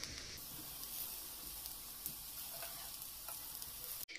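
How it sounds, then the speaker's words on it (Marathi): Fried onions stirred through vegetable pulao in a pan, giving a steady close sizzle and soft scraping of the spoon throughout, with a brief clatter near the end. "हांवें आता ऑनियन्स घालून बरे मिक्स करून घेतले"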